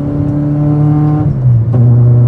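A Honda Brio with a swapped-in K24 engine drones steadily in fifth gear, a loud, close, smooth engine hum from inside the cabin with a brief pitch drop midway as the revs settle lower, no talking.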